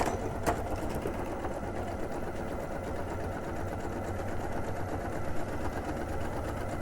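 Domestic sewing machine running steadily in a studio sewing setting, a quiet continuous mechanical whir with a fine rapid stitching rhythm and low hum, heard alone at moderate level without talk.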